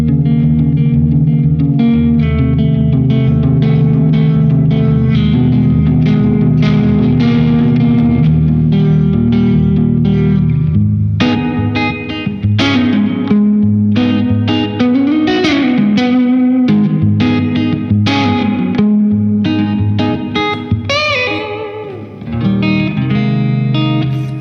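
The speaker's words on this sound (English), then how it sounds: "the reverb here is more of like a springy thing, so it has that pluck" An electric guitar plays through a spring reverb effect, with distorted chords and plucked notes that ring out with springy, echoing tails across a continuous, loud passage.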